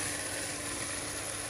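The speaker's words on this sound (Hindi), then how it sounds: "अब मैं इसमें आलू डाल दूँगी।" Thin-sliced potatoes go into a pan of frying chicken with chili, giving a loud, dense, unbroken sizzle that holds steady through the short moment.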